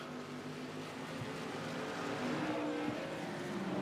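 Tour modified race cars run at Martinsville, their engines giving a continuous droning roar that swells slightly toward the end, with no voices over it.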